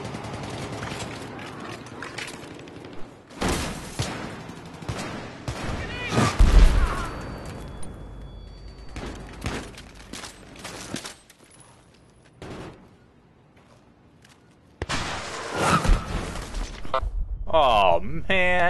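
Enemy gunfire in the Battlefield 3 beta: loud bursts of automatic weapon fire and booming explosions rattle in clusters, with quieter stretches between, and a player talks over parts of the battle.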